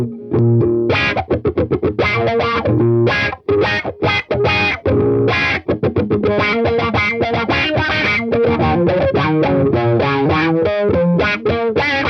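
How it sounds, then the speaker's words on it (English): Distorted electric guitar through a VOX V863-CA wah pedal in envelope-follower auto-wah mode, the sweep opening and closing with each picking attack, played alone in choppy, rhythmic bursts. "In this mode, the auto wah follows the dynamics of the input"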